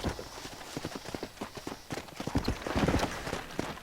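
Rapid rhythmic hoofbeats of a horse galloping in the video game Red Dead Redemption (2010), close and clattering, with a faint whoosh of movement in the background.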